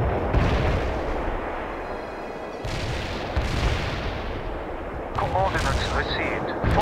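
Artillery and gunfire pound away in World in Conflict, with repeated heavy blasts and rattling shots in loud, uneven bursts, and brief voice chatter mixed in.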